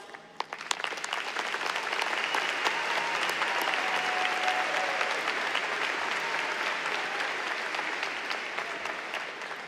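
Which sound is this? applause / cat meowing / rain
applause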